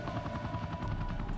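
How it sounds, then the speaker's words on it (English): A helicopter in the video game Devil May Cry 2 gives a continuous droning rotor whir with a rapid, pulsing beat that holds steady throughout. "That's a helicopter that I've got to deal with now."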